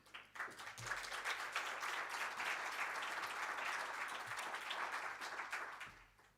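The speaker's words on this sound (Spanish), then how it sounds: "le damos un fuerte aplauso a Elena" Audience applause for Elena at Mulleres dos Mares 2026, a sustained burst of dense clapping from a crowd that swells quickly, holds steady for several seconds, then fades out.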